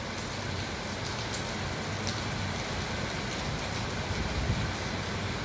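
A steady, even hiss of summer rain falls on the surfaces around, with faint scattered drop taps over a low rumble, continuing unbroken and without voices.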